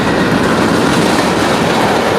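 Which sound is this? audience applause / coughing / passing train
passing train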